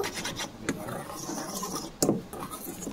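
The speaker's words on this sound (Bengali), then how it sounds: "শুকনো উপকরণগুলো খুব ভালোভাবে মিশিয়ে নেব।" Dry gram flour, salt, turmeric and red chili powder are stirred together in a bowl, giving soft, close scraping and rubbing strokes with a couple of sharper scuffs, steady and fairly quiet.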